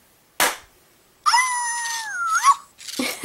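A toy junkyard dog gives a high, electronic wavering howl lasting about a second, set between short sharp clicks and rustling handling noises close by.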